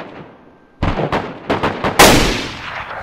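Rifle gunfire in the survival video game DayZ on PS4: several sharp, loud shots in quick succession, the last one heaviest with a long echoing tail, no talk over them.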